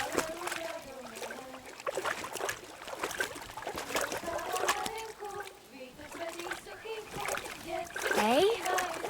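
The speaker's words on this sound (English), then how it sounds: "throw a stone in the water near her to lure her away" Stone thrown into water splashing in the video game Kingdom Come Deliverance 2, a brief splash and rippling water amid frequent character speech and game sounds.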